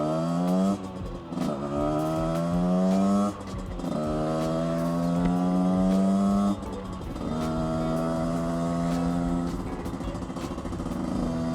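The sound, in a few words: manual motorcycle being ridden, project bike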